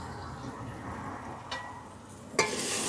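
Crushed ginger and garlic frying in a pan of oil, a soft steady sizzle with faint stirring, broken by two sharp scrapes of a spoon against the pan.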